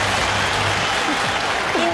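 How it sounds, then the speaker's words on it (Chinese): A studio audience applauds to welcome two guests on a talk show, steady dense clapping filling the room, close and loud, with faint voices underneath. "我们用掌声欢迎两位"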